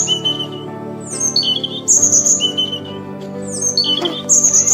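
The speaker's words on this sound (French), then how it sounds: "Le rouge-gorge va se mettre à chanter" A cartoon robin sings bright, clear whistled phrases of rising and falling notes in repeated bursts over a soft sustained musical backdrop.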